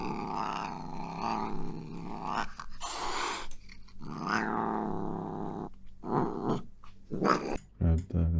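A creature sound from a library growls deeply and rumbles, with raspy hissing bursts and snarling breaths. The sounds come close and loud, rising and falling in uneven waves with sharp hisses near the end.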